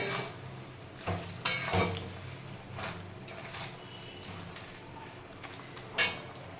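Fried prawns and onion being stirred into an okra paturi mixture, with soft scraping and clinks of a spoon against the pan at irregular intervals over a faint sizzle.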